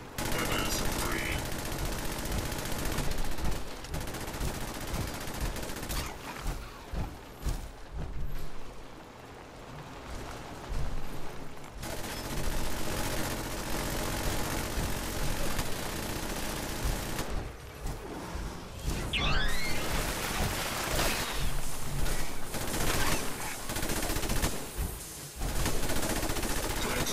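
Sentry bot machine-gun fire in Fallout 76 rattles in dense, sustained bursts that fill most of the stretch, with brief lulls near the middle and later on, loud and close throughout.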